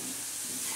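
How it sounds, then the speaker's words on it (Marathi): Green chilli, garlic and radish chutney sizzling as it is stirred in a pan, a brief, even hiss with no voices. "आता आपण चटणी हलवून घेऊ."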